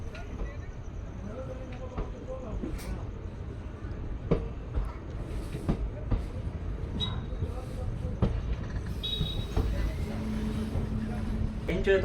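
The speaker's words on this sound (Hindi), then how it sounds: "तो देखिए भाई डिपार्चर अपनी ट्रेन का कालका रेलवे स्टेशन से।" A train pulls out of Kalka railway station, with a continuous low rumble and scattered metallic clacks and squeals from the carriages, while voices talk over it.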